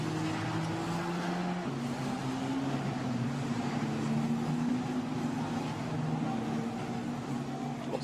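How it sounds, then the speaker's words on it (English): Formula Renault Eurocup race cars at Spa-Francorchamps on a semi-wet track, a field of engines droning past at a distance as a steady, fairly faint hum with shifting pitches. "Here comes the field of cars then, past the incident zone, so Franco Colapinto's advantage, of course,"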